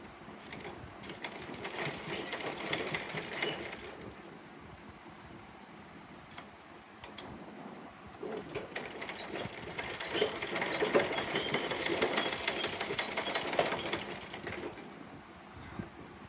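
A sewing machine stitches the open part of a handmade lace frock flower, running in two long bursts of rapid, steady whirring with a short pause between them, close and clear with no talking.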